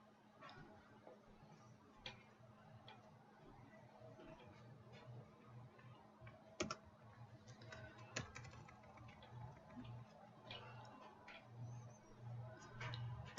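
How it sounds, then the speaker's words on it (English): Soft, irregular typing on a computer keyboard, faint clicks scattered over a low electrical hum. "So in the file name text box, we're going to type in"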